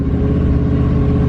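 A 2009 Dodge Challenger with a 5.7-litre engine roars continuously under hard acceleration during a pull, a loud, steady engine drone heard from close by, with no one speaking over it.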